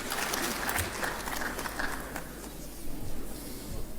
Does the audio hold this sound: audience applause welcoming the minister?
yes